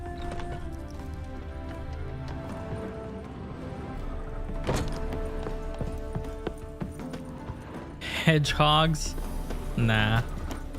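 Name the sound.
horse hooves in The Witcher 3 video game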